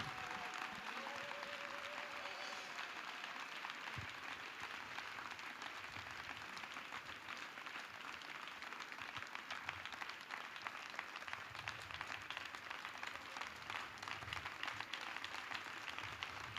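An audience applauds without a break, a dense, even roar of many hands clapping for the whole stretch, heard from a little distance.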